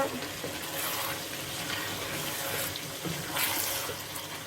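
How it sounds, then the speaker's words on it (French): Warm water runs from a tap and pours steadily into a cup while a pork filet mignon dish with mushrooms is being cooked, a continuous close splashing flow with no speech. "je vais rajouter... comme on dit en portugais, uma xícara, donc une tasse si vous voulez, d'eau tiède ou chaude"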